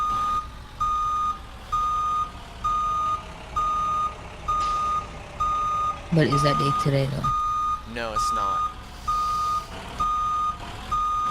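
A school bus reversing, its backup alarm beeping steadily in a regular loud rhythm over engine rumble, with someone talking over it and a brief clatter and hiss midway.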